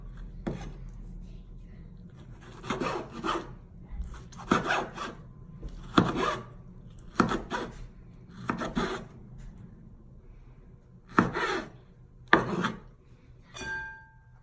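Knife chopping through tomatoes and vegetables for salpicón de res on a board, a series of crisp rasping cuts in spaced bursts of several strokes each, fairly close and alone with no talk.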